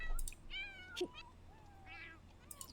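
Several cats meow in The Sims 4 game, a few short, clear calls spaced through the moment at moderate loudness, with faint background hum and no talking.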